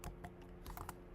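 Fast typing on a computer keyboard while coding: a quick, irregular run of soft, close key clicks, about a dozen strokes in just over a second, quiet with no voice over it.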